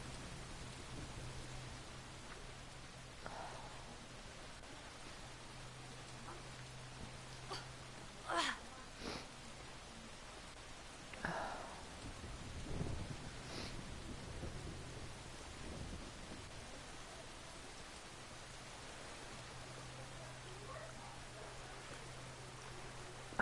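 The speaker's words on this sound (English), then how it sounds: "now it's raining and we obviously see some flooding" Steady rain hisses through a video game scene while a few low thunder rumbles roll in faintly, with a constant low hum underneath and occasional brief voice sounds.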